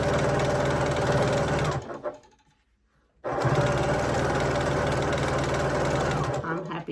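Home sewing machine stitching fabric-scrap jelly roll strips into a rug, a loud steady motor whir with rapid needle rhythm that pauses for about a second and a half, then runs again.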